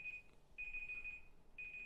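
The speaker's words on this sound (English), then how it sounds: "Oh, I started the timer" A timer alarm goes off with a faint electronic beeping tone in repeated bursts, quiet and alone.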